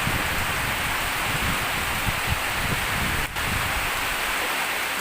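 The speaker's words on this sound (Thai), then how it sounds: "ฝนตกครับ" Steady rain over a cornfield hisses continuously in a dense wash of noise, even and unbroken, with one brief dip midway.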